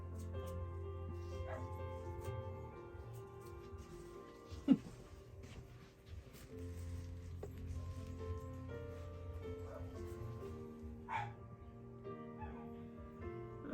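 Dogs whimper and yip faintly at a distance against a low, steady hum, with one sharp louder yelp partway through and scattered small whines later.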